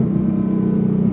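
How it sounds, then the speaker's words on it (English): Ford Mustang Dark Horse Hennessey H850 exhaust rumbling at a steady low idle-to-rev drone, close and continuous for a short moment, with no distinct pops audible and no talk. "Love the pops, the bangs. You got a real deal exhaust sound, nothing pumped in, nothing artificial"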